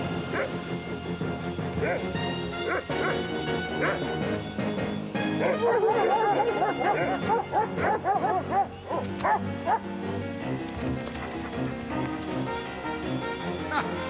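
Dogs bark and yip repeatedly in a televised drama scene, the sharp calls rising over steady background music at moderate distance.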